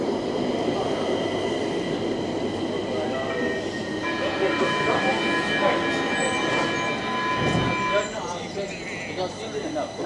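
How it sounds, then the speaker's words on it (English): A Stockholm subway train rumbles loudly nearby, with a steady low roar and sustained tonal whine from the wheels and motors, while people talk over the noise throughout. "That is the subway."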